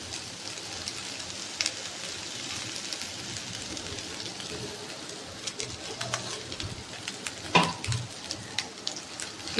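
Cooked basmati rice for fried rice is stirred in a pan, giving a continuous close sizzle with scraping and occasional clinks and a louder knock near the end, alone without speech.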